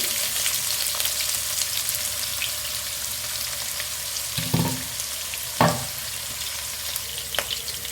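Sliced onions fry in hot tempering oil for tondekai (ivy gourd) sambar, with a steady, bright crackling sizzle, broken twice by short thuds and scrapes of stirring.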